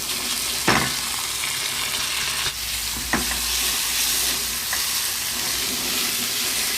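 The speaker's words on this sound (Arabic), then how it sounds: "واجيب الرز اللي انا غسلاه ومصفيه كويس انزل بيه" Washed, drained rice hits a pan of black honey cooked to dark brown and sets off a loud, continuous sizzle. A few sharp clatters of stirring and scraping break through the hiss.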